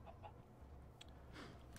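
Chickens clucking in the Minecraft video game, a few short faint clucks scattered over a couple of seconds without speech.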